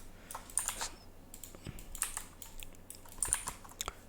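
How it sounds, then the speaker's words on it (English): Computer keyboard keys clack in quick irregular bursts of taps and pairs, close by and fairly quiet, with no voices over a faint low hum. "I am using the shortcut Alt 1 and Alt 2 on my keyboard."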